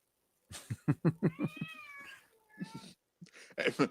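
A cat meows close by in a series of short bursts, then a longer drawn-out wavering meow, followed by a couple more quick calls; no talking.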